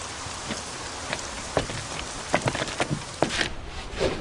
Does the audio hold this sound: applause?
no